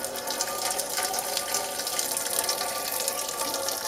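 Engine coolant drains from a 2.2 CDTI MK8 Honda Civic in a steady, even stream of splashing liquid that continues unbroken and at a moderate level, without any speech.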